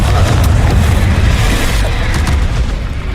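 A Confringo blasting spell explodes in Hogwarts Legacy, a loud, dense booming blast that rumbles continuously for a few seconds, close and heavy with crackling debris.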